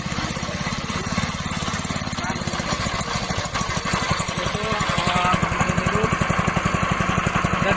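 Small engine of a pellet-making machine running steadily at close range, a fast even low chug that grows slightly louder and busier partway through, with no talk over it.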